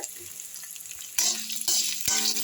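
Onions and roasted peanuts sauté in a pan, a soft crackling sizzle that swells into louder bursts of frying and stirring in the second half.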